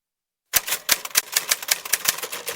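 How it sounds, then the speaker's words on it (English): A typewriter clatters quickly after a brief silence, with a steady run of sharp, crisp keystrokes that sound close and loud. "This one, for example, is typing his second novel."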